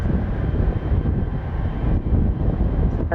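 A jet airplane at San Francisco International Airport gives a steady, broad rumbling roar, moderately loud and continuous for a few seconds.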